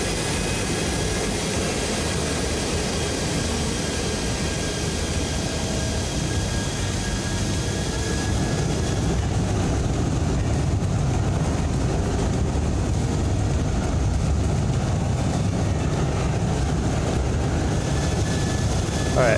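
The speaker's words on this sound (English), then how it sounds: "it's just the sound pack pretending that the engines are restarting" Simulated airliner jet engines restarting in X-Plane 12, a loud sustained whine and roar with steady high tones that shift midway as engine noise swells and continues.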